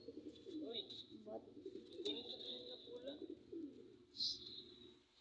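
Pigeons coo repeatedly at close range in soft rolling bursts, with a higher chirp near the end and a brief human voice mixed in.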